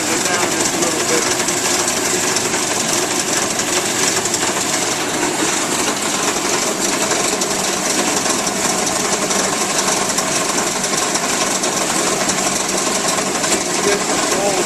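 A Goldfield Goldtron gold recovery table with its auger running, processing black sand, gives a steady, loud mechanical rattle and whir that goes on without a break.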